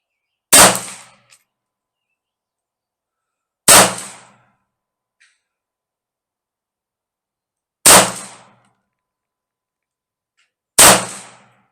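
Four sharp gunshots from a Smith & Wesson Model 41 .22 target pistol, loud and close, each a crisp crack with a short decaying tail, spaced a few seconds apart.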